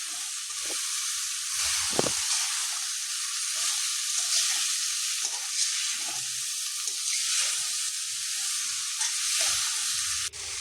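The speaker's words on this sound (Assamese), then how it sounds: "ৰংগুৰাখিনি দি ভালদৰে লৰাই ল'ম" Soybean chunks being stirred with red chilli powder in a hot pan, giving a steady, close sizzling hiss with faint scrapes of stirring throughout and no talking.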